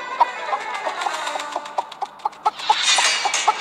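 Master Chicken, a chicken character in an animated film, clucks in a quick series of sharp, close calls that grow busier toward the end, against a quiet background.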